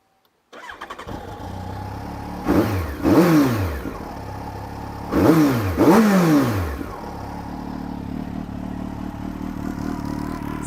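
A motorcycle fitted with a Yoshimura CX-12 exhaust idles steadily, then is revved hard in two pairs of quick, sharp blips that rise and fall before settling back to a loud, close idle.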